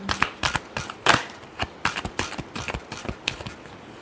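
Tarot cards are shuffled by hand in a rapid series of crisp riffling snaps and flutters, close and fairly quiet with no talking.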